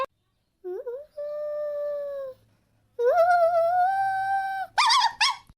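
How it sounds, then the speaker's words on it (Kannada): A dog howls in long, drawn-out wails, one after another, ending in a few sharp yelping cries, loud and close. "ಅದು ನಾಯಿ ಕಣೋ ನಾಯಿ ಬಗಳ್ತಾ ಇರೋದು"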